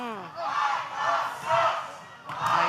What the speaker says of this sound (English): Crowd coming out strong. Listen to that crowd.